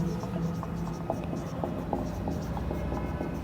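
Marker or chalk writing notes on a board during a biology lesson on Mollusca, giving faint scratchy strokes in short bursts over a steady room hum.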